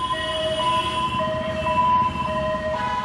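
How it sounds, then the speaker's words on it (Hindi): An ambulance siren wails with a steady, loud, sustained tone over constant traffic rumble, the rising and falling pitch carrying throughout with no voices. "ये एम्बुलेंस कहीं पहुंच नहीं रही है, बल्कि केवल भाग रही है, इस अस्पताल से उस अस्पताल।"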